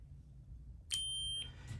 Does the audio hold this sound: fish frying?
no